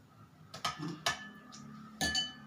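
Spoon clinks and scrapes against a bowl as soaked flattened rice is mixed with mashed boiled potato, chopped coriander and grated beetroot, a few sharp close taps spread across a quiet background.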